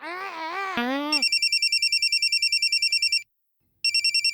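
Telephone ringing: a fast electronic ring in repeated bursts, loud and close, following a wavering tonal cry, with a brief pause before the ringing resumes.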